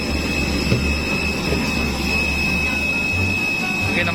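An arriving airplane's engines give a steady, loud roar with a thin, constant high whine over a low rumble, sustained throughout.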